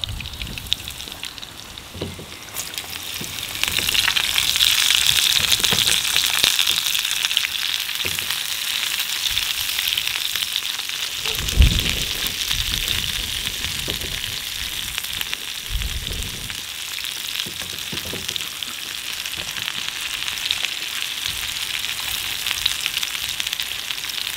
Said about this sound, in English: We're only going to cook these sausages and onion out here just to test it